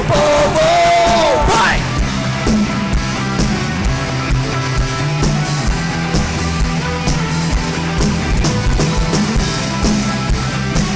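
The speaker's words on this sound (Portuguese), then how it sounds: "Já se ouve gritos." A church congregation shouts, yells and cheers during a worship celebration, a dense crowd roar layered over loud ongoing music with a rising tone at the start, sustained throughout.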